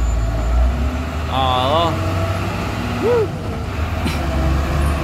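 A truck loaded with huge monster rocks grinds uphill with a low, continuous engine rumble, while someone talks over it and short squeals and a brief hiss cut in.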